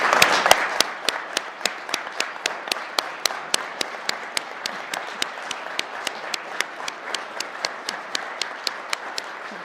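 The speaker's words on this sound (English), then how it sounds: "So can we give them a round of applause?" Applause at a Columbus Division of Police promotion ceremony, where the crowd's clapping thins out into a few distinct, evenly spaced claps from nearby hands.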